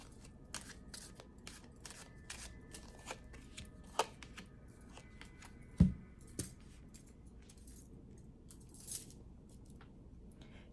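Rider-Waite-Smith tarot cards being handled and shuffled, soft papery riffles and light flicks scattered over several seconds, faint and close, with a couple of sharper taps among them.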